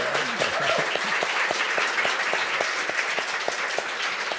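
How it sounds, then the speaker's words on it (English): A live audience applauds at a literary event, sustained clapping with scattered sharp claps standing out, steady and fairly loud throughout with no talking. "Could you give them a big round of applause?"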